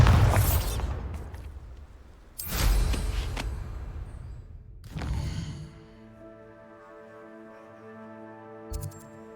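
Three spell blasts from Confringo and Bombarda in the Hogwarts Legacy video game boom out one after another, each a loud broadband burst with a decaying rumble, followed by a quieter sustained tonal hum and a small pop near the end.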